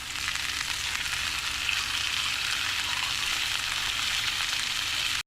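Meat sears in a hot pan with a constant, dense sizzle, close and even, with no talking over it.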